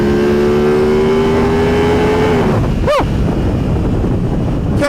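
A new Aprilia motorcycle rides under heavy, loud wind rush, its engine tone sliding down as it eases off, with another vehicle sweeping quickly past near the end.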